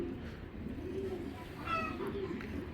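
Soft pigeon coos repeat a few times at close range over a steady low background hum.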